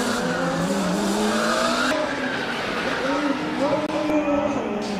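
A Formula Student race car crossing the line during an endurance race, its engine droning and rising and falling in pitch as it accelerates past, with a commentator speaking over it.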